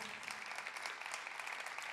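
Theatre audience at a live Latin American music concert applauding, a dense, even burst of many hands clapping that fills the room.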